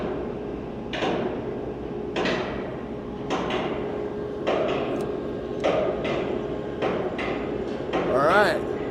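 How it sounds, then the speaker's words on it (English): Steel bolts being hammered into a stadium roof truss at an outdoor construction site: sharp metallic blows land roughly once a second over steady site noise, with a brief squeal near the end. "these bolts that they're pounding in there"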